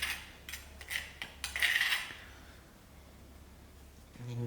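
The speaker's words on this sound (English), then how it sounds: "And then we just stir it in." Utensil clinking and scraping in a pan while ground ingredients for a fish curry are stirred, a few sharp metallic taps close by in the first two seconds before fading to quiet.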